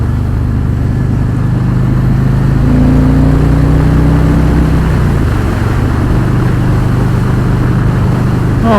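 A Harley-Davidson Road King cruiser rumbles while being ridden. Its engine hums smoothly and steadily up close, with a brief rise in pitch midway, over constant wind and road noise.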